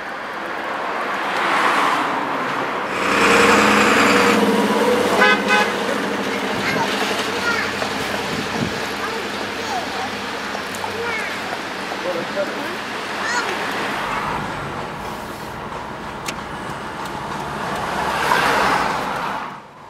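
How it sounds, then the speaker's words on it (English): Cars and light vans pass one after another on a main road into Andover, a continuous traffic hum with several louder passing swells, heard under occasional talk. "He's on one of the main roads going into Andover, so you get lots of traffic from cars, light vans to big articulated"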